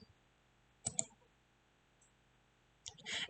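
Computer mouse clicks, two short sharp taps close together, then a quiet gap before another click runs into a speaking voice at the end.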